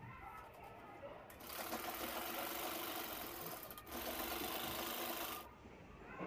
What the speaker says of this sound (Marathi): चारही कॉर्नर इथे कट करून मी शिवून घेत आहे